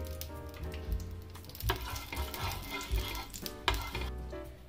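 Oil sizzles and crackles steadily in a hot pan while making jowar flour dhirde, close and continuous, with occasional louder pops and scrapes.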